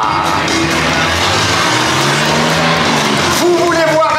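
Stunt car in a live show pass, the engine revving and shifting pitch with tire noise as it drives by, loud and close, with an announcer talking over it and a crowd in the background.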